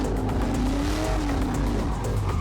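A car driven hard on a test course with far too much throttle, its engine note loud and sustained with a faint tire squeal sliding underneath, running continuously for a couple of seconds.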